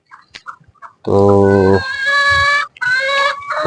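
Backyard hens cluck loudly and close by in a burst of drawn-out, squawking calls, with a brief spoken word just before and quieter background sounds around them.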